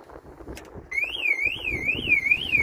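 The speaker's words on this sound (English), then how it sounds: "I have an alarm on my van" A loud electronic van alarm tone sounds on locking, warbling up and down in a steady repeating sweep, starting abruptly after a moment of quiet background noise outdoors.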